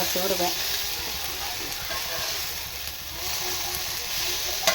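A wheat flour and rava dosa sizzles and fries steadily on a hot pan, a continuous crackling hiss with faint scraping and a few soft clinks.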